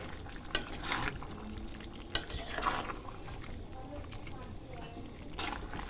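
Mutton curry gets stirred in a pan with a few sharp spoon knocks and a soft, wet frying sizzle underneath, while a voice talks over it.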